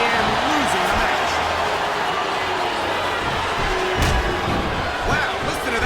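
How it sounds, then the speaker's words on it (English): A wrestling arena crowd roars and chants in WWE SmackDown vs. Raw 2007, a dense, steady wash of many voices with scattered thumps and louder swells. "listen to that chant, Taz."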